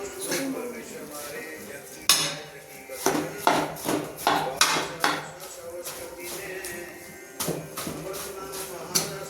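A ladle stirs panjeeri and sugar together in a small kadai, giving a run of close, clattering metal scrapes and knocks against the pan, with occasional louder clanks over a busy kitchen background.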